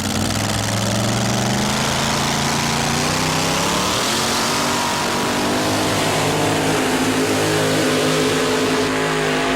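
A two-wheel-drive pulling truck at a 1990 NTPA truck pull in Pocono, Pennsylvania, roars continuously at full throttle, a loud, sustained engine howl whose pitch shifts during the run.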